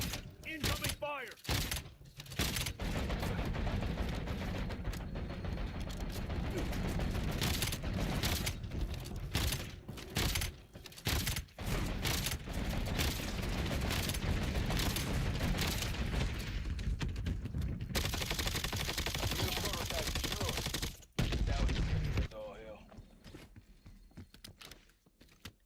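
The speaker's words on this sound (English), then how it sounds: "Incoming fire." Heavy gunfire and blasts fill a round of the shooter Black Ops 7, with dense bursts and booms running almost continuously, loud and close, while game voice callouts sound over the action.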